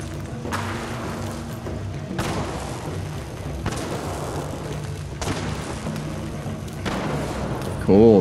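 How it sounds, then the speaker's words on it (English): Missile strikes from an alien craft in Fallout 4 hit a tree, a run of heavy booming thuds at a steady spacing, each one loud and close over a low rumbling background. "And then here's the air-to-surface missiles. We'll hit that tree in front of us there."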